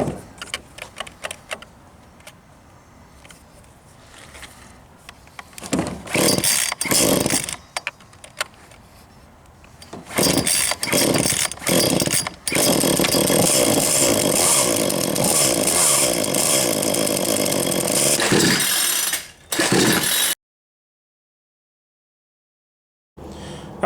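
A small, cheap chainsaw is pulled several times, sputters, then roars into a steady loud idle and rev before cutting off abruptly.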